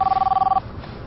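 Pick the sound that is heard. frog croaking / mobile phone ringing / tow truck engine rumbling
mobile phone ringing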